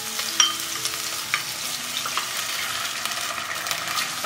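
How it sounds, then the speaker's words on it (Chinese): Onion and carrot stir-frying in hot oil in a wok, a steady close sizzle broken by a few clinks and scrapes of the spatula against the metal. "再起锅热油，把洋葱跟胡萝卜放进来炒香。"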